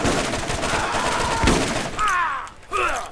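Shotgun blasts in Borderlands come as a dense, close clatter of gunfire. Near the end, short cries and chirping effects cut in.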